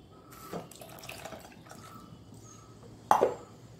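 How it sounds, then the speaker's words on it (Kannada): Water splashes and pours in short bursts into neer dosa batter, with a brief trickle early on and a louder splash near the end, against quiet background. "ಈಗ ಇದಕ್ಕೆ ಪುನಃ ನೀರನ್ನು ಸೇರಿಸ್ಕೊಳ್ಬೇಕುಂಟು"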